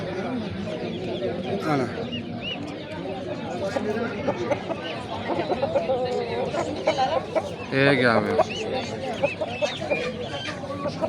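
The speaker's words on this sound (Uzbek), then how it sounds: "Mana bu tovuqlarimiz ham bor ekan, bunaqa xo'rozlarimiz ham bor ekan." Roosters and hens cluck and crow at a busy poultry market in Navoi. Close bird calls rise over steady crowd chatter while people talk nearby.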